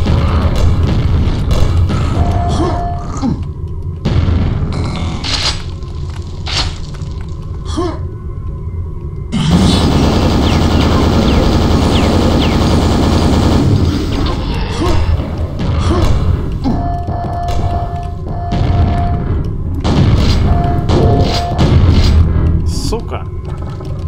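Rocket launcher blasts and booming explosions in the video game Quake, repeated loud thumps and bursts with a dense sustained blast in the middle, up close amid game noise.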